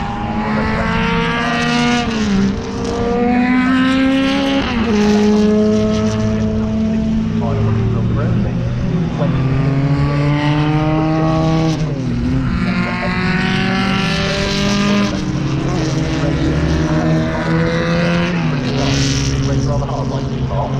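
Historic 2.5-litre Formula 1 cars qualifying at Donington Park scream past one after another, their engines rising and falling in pitch as they speed by, loud and close, with a voice under the noise.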